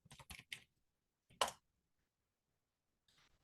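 Typing on a computer keyboard in a shell, a few quick close key clicks, then a single sharper keystroke after a pause and a faint tap at the end, with silence in between.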